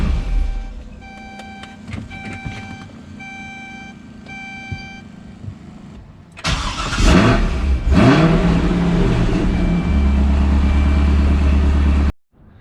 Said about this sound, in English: now let's go ahead and turn the car around.